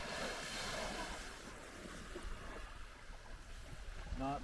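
Waves breaking on a beach in June under steady wind buffeting the microphone, a continuous low roar of surf that stays fairly faint, with no talking.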